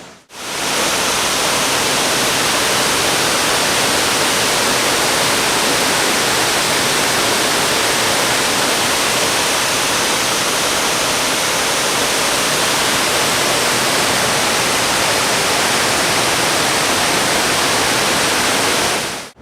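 Water pours over Stuyvesant Falls in Upstate New York, a loud, unbroken roaring hiss that stays steady and close for the whole stretch, with no talking.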